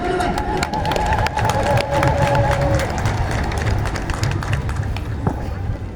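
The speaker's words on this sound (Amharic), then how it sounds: "እልል በል።" A crowd at an open-air Meskel religious festival in Gondar, a loud, dense roar of voices with cheering and ululation filling the whole stretch, busy and close.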